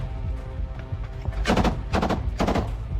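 Bursts of gunfire, three loud sharp volleys about half a second apart, over a low rumbling background, from a Bradley fighting vehicle attacking a village.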